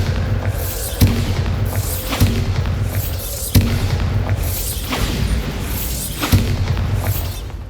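Spell blasts in Hogwarts Legacy: five heavy booming explosions, roughly evenly spaced, each a sharp thud with a rolling tail over a dense, loud game backdrop.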